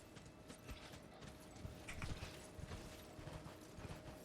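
Horse hooves clip-clop steadily in a video game, a close, even trotting rhythm of muffled knocks that runs the whole time with no talking.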